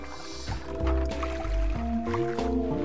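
Water squishes, drips and sloshes in the Wii game Fluidity as the player flicks the remote to make the water jump. Several soft wet splashes fall in an uneven rhythm over steady background game music.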